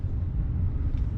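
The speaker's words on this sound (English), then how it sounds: "It's got that diesel sound, the diesel torque." Low, steady diesel rumble from a Chevrolet Silverado 3500HD Duramax dually pickup heard from inside the cab while driving, a constant engine and road drone with no voices.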